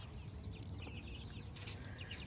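Several chickens, including roosters fighting, cluck and squawk over a noisy outdoor background, fairly close, with a brief flurry of louder calls.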